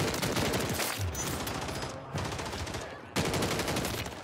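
Rapid gunfire from the video game Call of Duty Warzone Rebirth, dense bursts of automatic shots running almost continuously, loud and close, with brief breaks between volleys.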